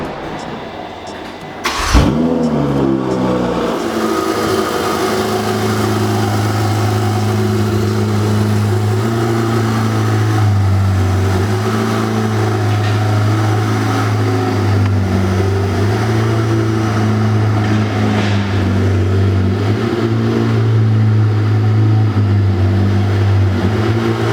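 A Ferrari 488 Pista's engine fires up with a sharp starter bark and rising rev, then settles into a loud, steady idle with occasional small blips, close by and alone.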